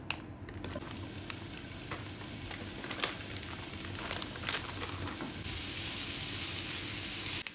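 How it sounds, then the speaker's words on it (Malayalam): Paneer fries in butter in a pan with a steady close sizzle, broken by scraping stirs, and the sizzle grows brighter and louder toward the end. "നമുക്കിത് പനീറൊന്ന് ഫ്രൈ ആക്കി എടുക്കണം"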